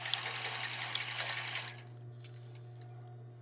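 A sewing machine backstitches tulle and lace on a bra with a rapid, close mechanical chatter that stops partway through, leaving a low steady hum.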